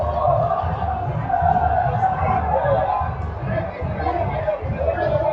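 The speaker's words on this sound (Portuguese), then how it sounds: "A torcida do Netuno faz a festa, ouve o barulho da Vila aí" Over 11,500 football supporters at Vila Belmiro stadium celebrate a Paulista Série A1 match with a dense, sustained roar and babble of chanting voices, their rhythmic swells rising and falling under a commentator's voice.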